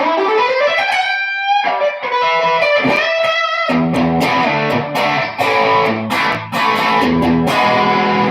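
Heavily distorted electric guitar, a Fender Custom Shop model, plays loud, sustained chords and riffs, thick and saturated throughout.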